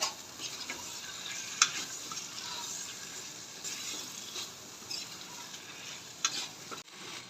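Prawn curry masala being stirred and turned in a hot pan, a soft steady sizzle with scattered scraping clicks of the spoon, fairly quiet and close, with no talking.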